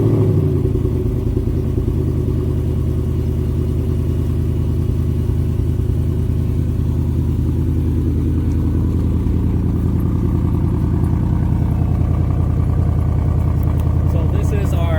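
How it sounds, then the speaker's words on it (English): Stock exhaust of a 2018 Ford Mustang GT with the 5.0L V8, a steady deep rumbling idle close by that holds even throughout, with a faint rise in clatter toward the end. "So this is our stock exhaust sound on the Ford Mustang GT 2018."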